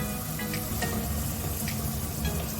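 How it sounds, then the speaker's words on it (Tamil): Water pours into a kitchen mixer jar with a steady splashing trickle, close and continuous for a couple of seconds. "She is adding little water in the mixie and she is adding now."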